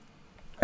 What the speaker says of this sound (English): Me coughing, not so much.